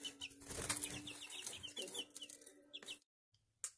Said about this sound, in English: Aren't those chicks getting so big?